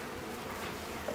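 Honeybees hum faintly inside a beehive box, a brief, soft, steady drone close by with no talk.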